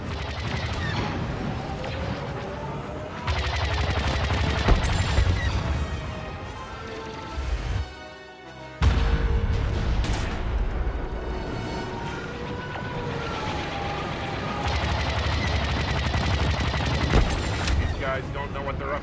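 Blaster fire and explosions in a Star Wars Battlefront 2 starfighter assault battle, a dense continuous barrage of shots and crashes over music with a brief dip near the middle, with voices talking.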